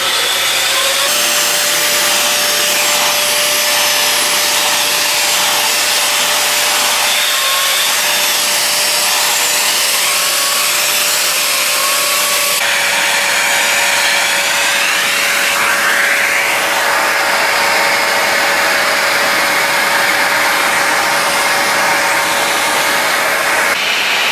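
A canister vacuum cleaner running on stairs, a loud continuous motor whine and rushing airflow throughout, with shifting scraping and rubbing as the nozzle moves across the steps, no talking.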